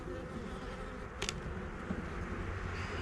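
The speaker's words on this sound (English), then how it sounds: "We got some bees." Honeybees around a hive box in a bee yard, with a feed tray inside, make a steady, soft, continuous drone close by with no voices over it.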